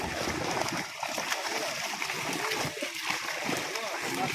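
Newly brought fish are released into a village pond, sending up continuous close splashing and churning water while people talk nearby.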